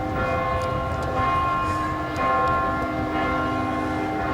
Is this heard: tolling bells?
yes